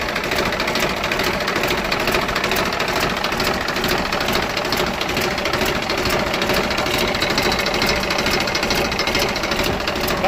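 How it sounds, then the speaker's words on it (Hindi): A Massey Ferguson 1035 DI tractor engine runs steadily, a dense, continuous mechanical drone with a rapid knocking clatter, loud and close throughout with no talk. "दोस्तों इसका इंजन तो बढ़िया जवाब दे रहा"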